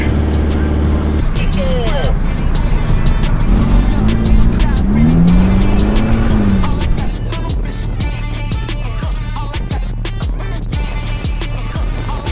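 A Peugeot 205 drives through hot desert terrain, its engine and tyres rumbling loudly and steadily from inside or near the car, with some squealing and revving and a voice over part of it.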